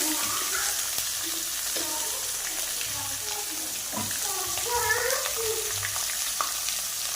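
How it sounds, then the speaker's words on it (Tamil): Onions sauté in hot oil in a pan for a potato gravy, a steady close sizzle and crackle running throughout, with occasional stirring and scraping noises and a few faint clinks. "அப்புறம் வெங்காயம் நல்லா போட்டு வெங்காயத்தை நல்லா வதக்கணும்."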